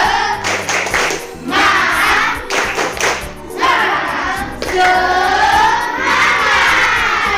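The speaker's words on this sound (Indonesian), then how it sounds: "mari dulu kita buat tepuk semangat" A sixth-grade class performs a tepuk semangat spirit clap, rhythmic bursts of group clapping and taps mixed with loud children's shouted chants, close and energetic.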